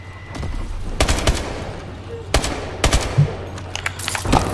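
Bursts of automatic gunfire in Call of Duty Advanced Warfare, several loud rapid volleys separated by short pauses over faint background noise.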